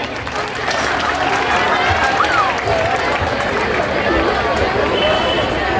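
A crowd at a school farewell celebration in Kaliachak bursts into applause, a broad, continuous roar of clapping and hubbub that swells in after a quiet start and holds steady, with voices mixed into the noise.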